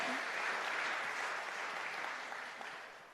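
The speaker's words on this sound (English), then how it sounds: "A round of applause for Superwoman Natasha" Steady applause from an audience at a justice rally in a San Francisco museum, a continuous wash of many hands clapping that fades slightly toward the end.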